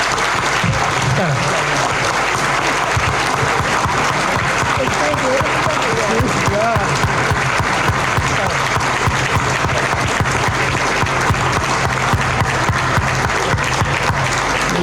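An audience at an evening talk event applauds steadily and densely throughout. The clapping stays even and fairly loud, and a single spoken word cuts in partway through.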